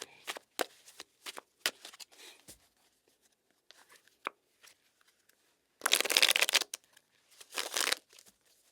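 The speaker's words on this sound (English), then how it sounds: "Let's throw some additional cards here to see what they want to present to you." Tarot cards are handled up close: crisp taps and flicks as cards are drawn and laid down, then a dense riffling shuffle burst followed by a shorter second flurry, no talk.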